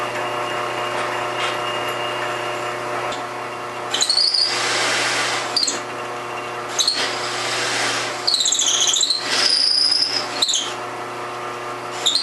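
A power drill bores holes in wood for a quilt rack, a steady motor whine running throughout with several rising bursts of higher-pitched drilling and squealing as the bit bites in.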